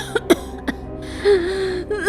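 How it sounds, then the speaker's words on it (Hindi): A woman coughs in short bursts, three sharp coughs followed by a strained, voiced throat sound, close and fairly loud within a horror story scene. "बहुत खांसी आ रही थी।"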